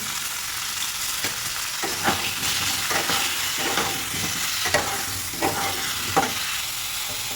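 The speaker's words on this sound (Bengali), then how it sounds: "ফুলকপি ফ্রাই হয়ে গেছে।" Cauliflower pieces fry in mustard oil with turmeric and salt, giving a steady close sizzle with periodic spatula scrapes and taps as they are tossed. No one speaks.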